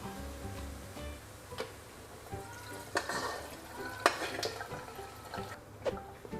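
Garlic sizzles gently in oil for Thai pork with crispy garlic, a quiet frying hiss broken by several sharp scrapes and clinks as a utensil stirs the pan and scoops the garlic out.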